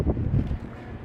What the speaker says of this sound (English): It's so windy here.